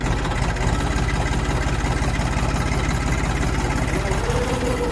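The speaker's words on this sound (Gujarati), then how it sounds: "આ રીતે ટ્રેક્ટર હાવ હાલે, પહેલા ગેરમાં સ્લો, હાવ સ્લો ટ્રેક્ટર હાલ્યું જાય છે" A tractor engine chugs slowly in first gear, a steady low rhythmic thrum with fast regular firing pulses, close and continuous, alone without talk.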